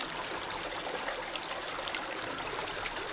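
A forest stream runs down a hillside in the Swedish wilderness of the Jougda valley, giving a steady, close rush and trickle of water that continues unbroken throughout, with no voices.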